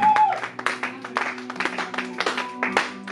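Church congregation at a Sunday service applauding, a dense run of irregular hand claps with scattered cheering voices, close and lively, continuing for several seconds.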